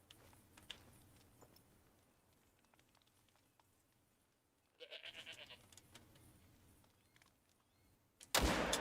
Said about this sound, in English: Heard a goat right on top of me.